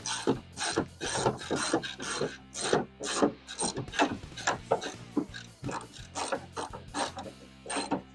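A ratchet snugs bolts on a Ford Mustang in a run of quick, close clicking bursts with short pauses between strokes.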